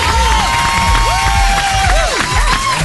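A studio audience cheers and applauds a singer's arrival, loud whoops and excited shouts rising and falling over steady clapping, close and energetic throughout.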